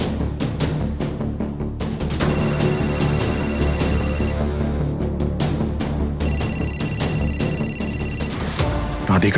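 A phone ringtone chimes in two repeated bursts over loud, dramatic background music in a Hindi TV serial, with no talking.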